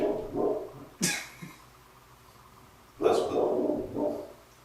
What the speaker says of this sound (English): get your dogs under control, bro. Your dog's fucking up our audio.